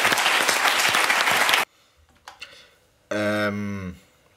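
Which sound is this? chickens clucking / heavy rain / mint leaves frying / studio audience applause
studio audience applause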